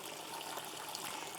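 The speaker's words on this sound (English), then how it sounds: "And then we add water." Water poured over quinoa seeds in a container for sprouting, a steady close trickle that keeps going without pause.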